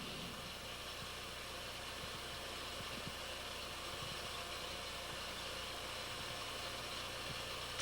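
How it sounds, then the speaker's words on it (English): A tractor engine runs steadily on a ranch, a constant low idling drone under broadband noise, with no speech heard. "And that's Fred Tinsley driving the tractor."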